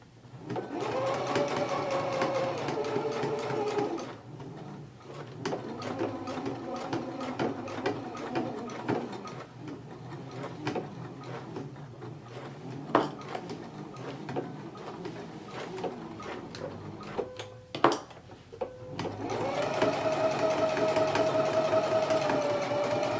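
A sewing machine stitches a pocket onto a jacket in bursts: a steady whirring run, a quieter stretch with scattered clicks and handling, then another whirring run, close and clear.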